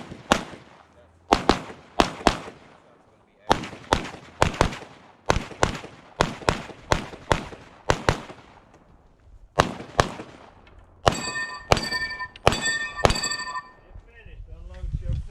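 Rapid gunshots from a .223 rifle at an outdoor shooting match, a string of sharp loud cracks in steady rhythm, some with ringing metallic target hits, and brief talk near the end.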